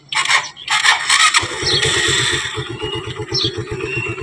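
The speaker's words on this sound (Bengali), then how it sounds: "ফার্স্টে আমি বাইকটা স্টার্ট দিই।" Second-hand motorcycle engine: a few whirring, squealing starter cranks, then the engine catches and settles into a loud, close, rapid chugging idle.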